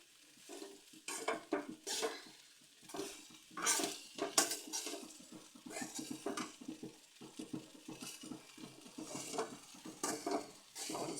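Steamed idli pieces are tossed and stirred into a tempering in a pan, with repeated scraping spatula strokes and clinks against the metal over a light sizzle, close and rhythmic.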